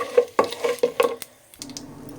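Urad dal, chana dal, cumin and mustard seeds roast in hot oil, stirred with a utensil against the pan in a run of quick scraping strokes over a soft sizzle, then a quieter stretch with a few light clinks.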